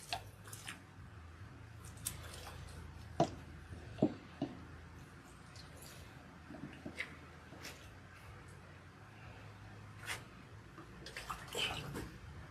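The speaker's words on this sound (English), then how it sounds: "Now we are rinsing." Water runs and splashes as oil is rinsed out of natural hair, giving soft squishy sounds and a few sharper drips and splashes over a low, steady flow.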